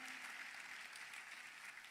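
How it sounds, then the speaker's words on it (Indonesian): A church congregation applauds during an Ascension Day revival service, a dense continuous roll of clapping from many people, steady and even across the brief moment, heard at a low, somewhat distant level. "Tepuk tangannya, boleh yang lebih meriah lagi buat Tuhan kita."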